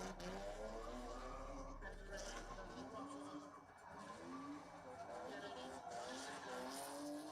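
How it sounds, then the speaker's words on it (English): A drift car skids through a qualifying run at the Southeast Asia Drift Series round in Indonesia, its tyres squealing and engine wailing in a steady, somewhat distant roar, with a commentator talking over it. "Getting the outside line, nice from Dan Chaven. Oh, not afraid from the cones"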